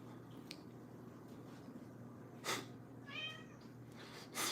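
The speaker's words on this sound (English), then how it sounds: "Your cat wants to cuddle, bro." Pet cat indoors giving a short meow among faint room noise, with a couple of soft brushing sounds, fairly quiet and close.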